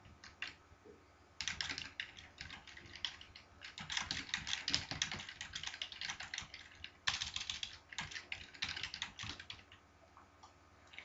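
Quiet, fairly close typing on a computer keyboard to enter a short comment, rapid irregular clicks in bursts separated by brief pauses.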